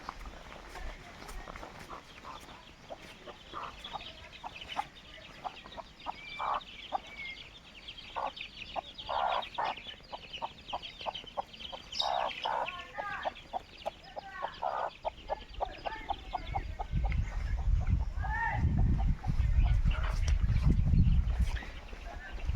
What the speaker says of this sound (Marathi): पिल्लेवाली कोंबडी बघा.